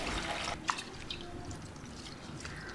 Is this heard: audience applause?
no